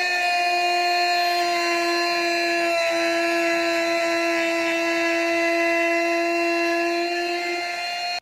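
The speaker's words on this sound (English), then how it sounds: "We're just gonna neaten up the top of the boards with a trim bit in the router." A router fitted with a trim bit runs steadily along the top edges of boards from an upcycled chest of drawers, a loud continuous high whine holding nearly unchanged pitch from start to finish with no talk.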